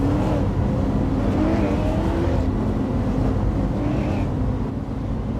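Race cars at Thompson Speedway in a live auto race roar steadily from start to finish, a dense continuous engine drone holding at constant loudness, with no voices.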